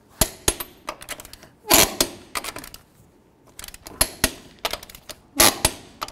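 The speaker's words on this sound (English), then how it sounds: "Let's torque these lug nuts to 140 foot-pounds." A torque wrench tightening lug nuts on a 1999-2007 Chevy Silverado truck, sharp metallic clicks and ratcheting in bursts, close and loud, with short pauses between nuts.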